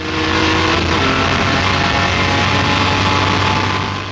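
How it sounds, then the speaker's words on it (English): A Jaguar D-type race car accelerating hard down a straight after a short shift, its engine a continuous loud, dense roar heard from on board with no pauses and no voices. "Short shift so that you can use the torque all the way down the straight"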